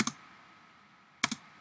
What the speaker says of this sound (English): you hit the spacebar